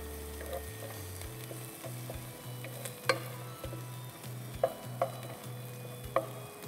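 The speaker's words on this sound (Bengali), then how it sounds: "মশলাগুলো দিয়ে আমরা আবার ভালো মতো একটু ভেজে নিব" Spices and ginger paste fry in a pan for mung bean pulao, a constant sizzle broken by several sharp spoon scrapes and knocks against the pan, close up with no voices.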